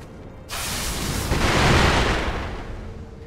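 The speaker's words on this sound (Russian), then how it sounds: "то можно кинуть сразу петарды по кругу." A ring of firecrackers thrown in a circle in Sekiro sets off suddenly after a quiet moment, swelling into a loud, booming crackle that peaks and then slowly tapers.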